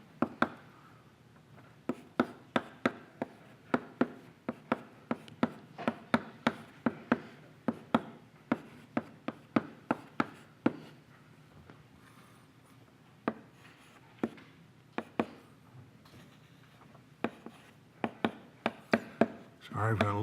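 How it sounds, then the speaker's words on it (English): Handwriting strokes in an irregular series of short, close scratching and tapping sounds, with brief pauses between bursts, fairly quiet throughout. "Let me write this out for you."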